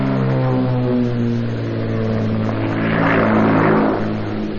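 An Aero Commander Shrike twin-propeller plane climbs through an aerobatic turnaround, its loud, harmonic propeller drone swelling and shifting in pitch as it passes close by.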